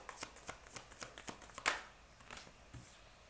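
Tarot cards are riffled and shuffled by hand, close and fairly quiet, in a quick run of crisp flicks followed by a sharper snap and a few softer card slides.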